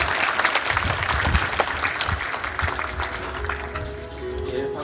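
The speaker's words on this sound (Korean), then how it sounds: "다시 한번 박수 부탁드립니다." A hall audience at a book concert applauds after a speech, with steady, fairly loud clapping and crowd noise throughout. A voice comes in near the end.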